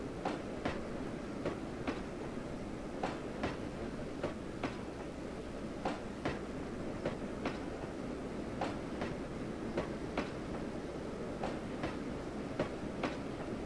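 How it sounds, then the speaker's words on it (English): A train rolls slowly past a road crossing on the Carrabassett Valley Railroad, heard from the roadside as a steady rumble with evenly spaced clickety-clack wheel beats throughout, moderately distant and with no voices. "the train will be coming through here in a second"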